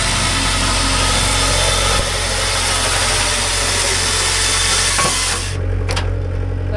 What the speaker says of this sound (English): I'd give it a little bit of throttle so your saw will run.